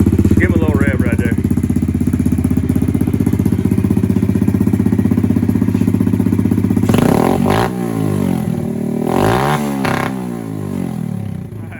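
A Yamaha TTR-110 dirt bike with upgraded carburetor, exhaust and a custom air filter idles loud and close with a fast steady putter, then revs up and down in several swelling bursts, with a voice speaking over it.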